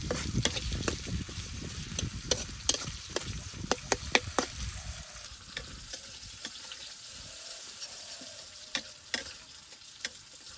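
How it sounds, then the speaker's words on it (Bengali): Chopped onions and green chilies fry in oil in a pan, a steady sizzle with sharp scrapes and clacks of stirring, busy at first and then quieter, with occasional ticks. "পেঁয়াজ কাঁচামরিচটা ভালোভাবে ভেজে নিই।"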